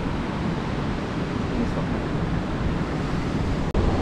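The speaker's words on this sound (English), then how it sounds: "we're waiting for a couple waves here" Steady broadband surf of ocean waves breaking on a beach, a continuous close wash with wind rumble against the microphone and no voices.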